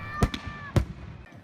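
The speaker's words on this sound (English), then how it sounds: "The family event capped off with an early evening fireworks display." Early evening fireworks display at a Matariki celebration in Roy's Park, Wanaka: two sharp, booming bursts about half a second apart, a smaller pop between them, heard over faint background murmur.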